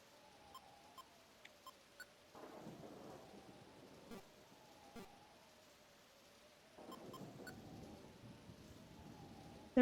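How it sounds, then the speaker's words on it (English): Steady rain hiss in a video game, broken by two swelling rumbles of thunder that build and roll for a few seconds each, with small scattered clicks on top. "The rain sound is very nice"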